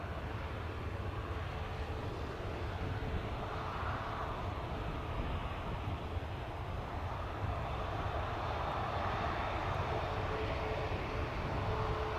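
A JetBlue jet airliner taking off at a Jamaican airport on a stormy day, a loud, steady roar of jet engines sustained throughout, with no talking.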